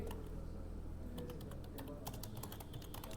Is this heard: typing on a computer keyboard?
yes